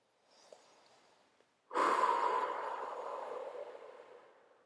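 A quiet breath in, then a long, deep exhale through the nose during a stretching routine for climbers, close and soft, fading out slowly with no talk.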